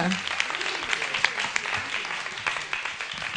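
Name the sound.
audience applause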